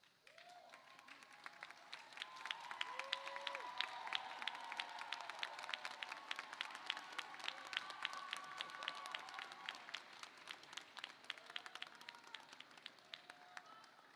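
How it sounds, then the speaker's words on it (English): Graduates at a 2026 winter commencement stand and applaud their friends and families, a sustained crowd clapping with crisp individual claps heard throughout, slightly distant and fairly even, with a few faint voices mixed in. "Please, if you could, students, stand up, turn around, give them some applause."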